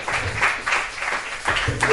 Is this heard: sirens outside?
no